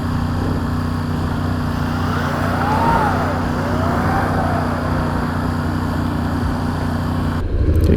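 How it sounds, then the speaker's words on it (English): Steady, loud road roar and engine drone from heavy vehicles in traffic around a Honda NC750X motorcycle, with faint swooping tones passing by and a brief gust of wind noise near the end, no talk. "here got a lot of heavy vehicles, so I have to really take care"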